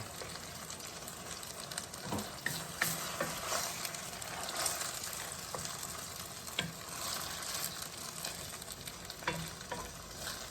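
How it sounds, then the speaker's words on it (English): Marinated pork strips fry in a pan on a high stove for a stir fry, giving off a steady, dense sizzle with occasional sharper pops and crackles, close up and with no voices. "we're going to give these pork strips about maybe 5 minutes to cook"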